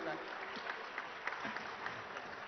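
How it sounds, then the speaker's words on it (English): Audience applause fills a summit session hall, sustained clapping at moderate distance with a few louder claps standing out, and faint voices mixed underneath. "a louder round of applause will be great"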